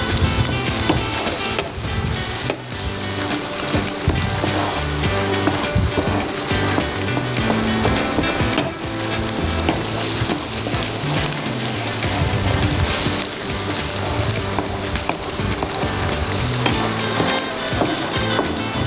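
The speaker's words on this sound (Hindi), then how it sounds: "बड़ी अच्छी खुशबू आती है जब अदरक लहसुन कुटा हुआ फ्राई हो रहा होता है ना" Crushed ginger and garlic fry in a pan with a loud, steady sizzle and occasional stirring clatter, continuous throughout with no talking.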